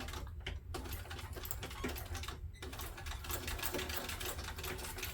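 A sewing machine top stitches backpack fabric in a near, steady run of fast needle clatter, pausing briefly twice before continuing.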